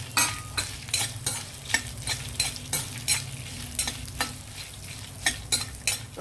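Cumin, coriander seeds and garlic fry in a pan for a ridge gourd peel and sesame chutney. A soft, steady sizzle runs throughout, with regular scraping stir strokes about twice a second and no talking.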